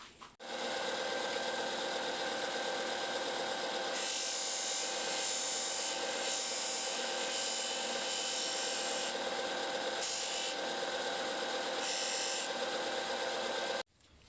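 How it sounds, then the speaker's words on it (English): A disc sander runs with a loud, steady motor whine while arrow shafts are pressed against it to flatten their cut ends, the grinding rasp rising in several bursts before the machine stops. "You can use the sandpaper on some flat surface to flatten this, but I like to use the disc sander."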